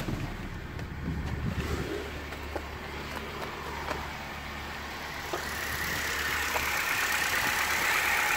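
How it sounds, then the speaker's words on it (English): Car engine idling at a used-car auction just after starting, a low steady rumble with some wind noise on the microphone and no talking. "God, that engine sounds sweet as a nut,"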